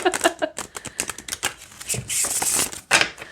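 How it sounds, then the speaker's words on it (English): Rapid riffle of a small deck of thin-cardstock rune cards being shuffled, a dense patter of light flicks with a short burst near the end. "the less cards you have and the thinner the cardstock, the harder it is to shuffle"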